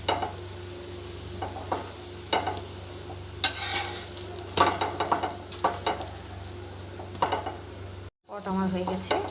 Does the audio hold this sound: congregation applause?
no